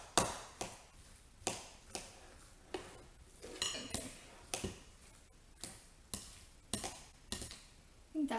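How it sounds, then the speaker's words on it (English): A knife chops potatoes for potato salad on a cutting board, with sharp, evenly spaced thuds repeating at a steady moderate pace, close and alone with no talking. "I think that's pretty well chopped"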